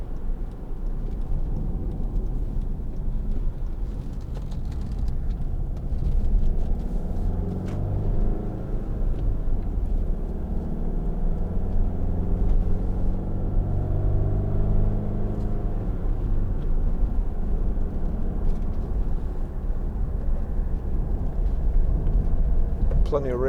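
A 2013 Hyundai ix35 1.7 CRDi diesel driving, its steady engine and road rumble heard from inside the cabin as the engine note rises and falls, with a person talking over it.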